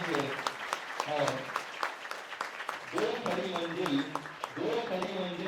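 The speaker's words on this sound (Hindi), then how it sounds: "पुनः आप एक बार सभी अतिथियों का जोरदार ताली बजाकर स्वागत और सम्मान बताएंगे।" Audience applause welcoming guests at a public event, a steady sustained clapping from a crowd that continues throughout alongside a speaking voice.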